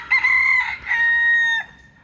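A rooster in a backyard grain bin chicken coop crows once nearby, a loud, drawn-out cock-a-doodle-doo with a sustained held tail, standing alone without talk.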